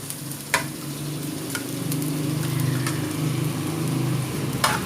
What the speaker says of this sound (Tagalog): we'll just stir fry the ginger and garlic together.